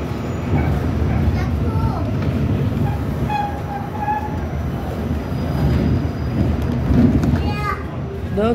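A subway train pulls into Coney Island station, its wheels grinding and squealing on the rails over a steady rumble, while voices chatter nearby throughout.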